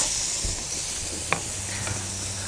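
Burgers sizzling on the hot center of an RV grill, a steady close hiss with a couple of faint clicks and scrapes.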